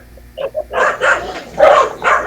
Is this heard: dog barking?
yes